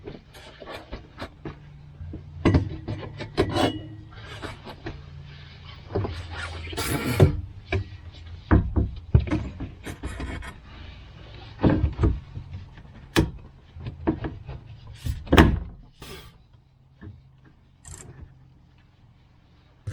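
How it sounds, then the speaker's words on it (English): A toilet is screwed down to its flange bolts inside a cabin, heard as scattered close knocks, scrapes and clunks of hand work at an irregular pace, with no talking. "Okay, I'm gonna screw this thing down, maybe forever and ever"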